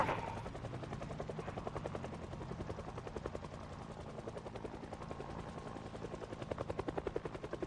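Helicopter in the video game Project Zomboid passing overhead, a steady rapid rotor chop that grows slightly louder toward the end, heard alone without talk.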